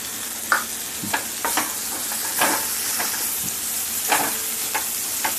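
Bitter gourd frying in oil in a pan, a loud constant sizzle close by, broken by intermittent scraping and clacks of a spoon stirring the vegetable.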